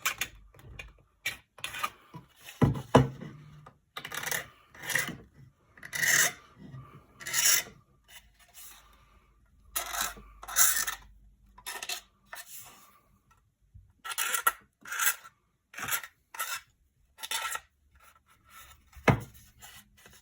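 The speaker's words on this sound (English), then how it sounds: "we'll clean up the edges with a sharp knife, and this plastic is so easy to work with" A sharp knife scrapes burrs off the plastic edges of an O gauge Mk2 model coach in short, dry rasping strokes, repeated in quick bursts with brief pauses, close and fairly quiet.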